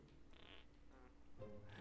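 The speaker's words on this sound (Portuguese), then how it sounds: "Barulho de peido!" A fart sound effect from the Minecraft video game plays once at low volume, a short buzzy blurt with no talking over it.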